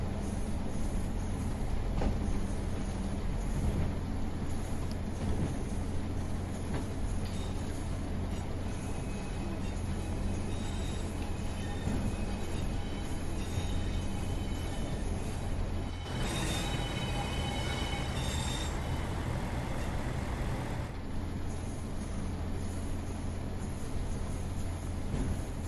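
Steady low rumble of a Pacer diesel passenger train running, with a constant engine drone and a brief brighter rattling passage midway, heard from the cab in heavy rain; no talking.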